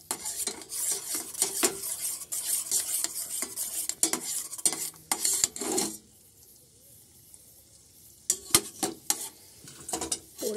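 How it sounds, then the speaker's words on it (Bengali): A spoon stirs milk tea in a pan, scraping the bottom with quick, repeated strokes and clinks at close range, then falls quiet for about two seconds before the scraping resumes; no one speaks. "একটু নাড়তে হবে, না হলে তলে লেগে যাবে"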